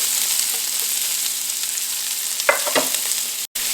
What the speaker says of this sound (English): I'm going to fry onion.